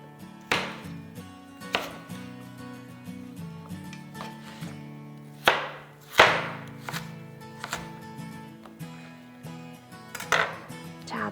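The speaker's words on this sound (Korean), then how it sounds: "이렇게 썰어주세요" A knife slices through radish on a cutting board, giving a series of sharp, irregular chopping thunks with brief pauses, close and clear with no talking.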